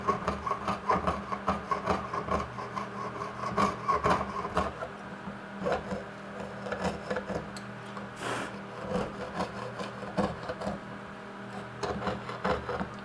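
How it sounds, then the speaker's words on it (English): Rhythmic rasping of a saw blade cutting silver and brass, steady back-and-forth strokes close by for several seconds, with no talking. "put my saw blade through either one of those and just saw out the rest of it"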